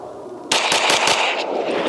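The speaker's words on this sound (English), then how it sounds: "I'm gonna run some of it, about 4 rounds through the gun real quick, a little fast pace" About four rapid rifle shots fired through a Ghenghis Comp compensator using +P ammo, sharp and loud at close range in a fast, even cadence, with echo trailing after.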